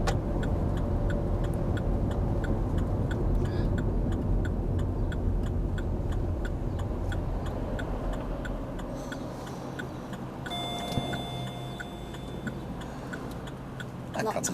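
A car's turn signal ticks in a steady, regular rhythm inside the cabin during a driving lesson, under a low engine hum while the car pulls over; a voice speaks briefly.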